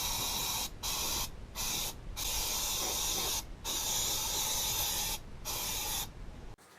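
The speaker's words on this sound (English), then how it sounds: "take your rotor, if you haven't already done so, and spray it down with brake cleaner to get all this anti-rust coating off of here" Brake cleaner hisses onto a brake rotor in several sustained aerosol sprays separated by short pauses, close and steady, with no voices.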